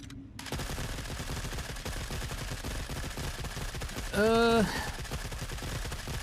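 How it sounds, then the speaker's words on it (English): Sol gun fired continuously in the shooter game The Forever Winter, a dense rattling stream of shots under steady noise, with a short rising tonal sound cutting in partway through. "what we came here to test is to see if the Sol still has god-awful recoil"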